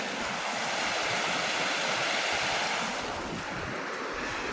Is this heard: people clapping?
no